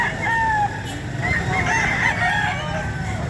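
A fighting cock crows at a cockfighting rooster sale, a loud, close cock-a-doodle-doo with other fowl clucking faintly and a murmur of people around.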